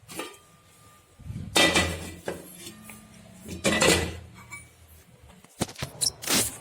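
A metal pot lid is set back onto a pan while cookies cook, producing several close, sharp clanks and rattles of cookware separated by quiet pauses.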